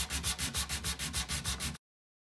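Rhythmic back-and-forth scraping of sandpaper rubbed by hand on furniture, about a dozen even strokes, close and steady, then abrupt silence.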